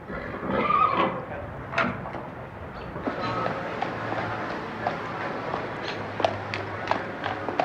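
A horse whinnies near the start, then snorts and shifts about with scattered hoof sounds in a quiet stable area before a race, with no talk over it.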